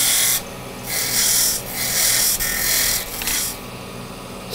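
A wooden tenon being cut on a lathe, heard as a harsh, hissing scrape that swells and drops in several passes as the tool meets the spinning wood. It is close and loud, with no voices.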